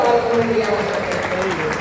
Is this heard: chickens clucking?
no